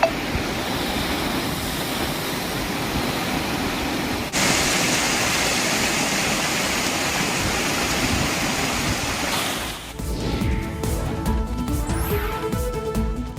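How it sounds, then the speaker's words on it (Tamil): Floodwater of more than one lakh cubic feet surges down the Thamirabarani river in Tirunelveli in December 2023, a loud unbroken rushing roar that gives way to different, more tonal sounds near the end. "நெல்லை தாமிரபரணி ஆற்றில் 1 லட்சம் கன அடிக்கும் அதிகமாக தண்ணீர் திறப்பு."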